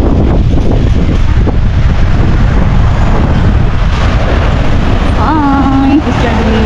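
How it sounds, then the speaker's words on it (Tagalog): Strong wind buffets the microphone in a continuous loud roar, with a brief tonal sound near the end. "May lakas ng hangin."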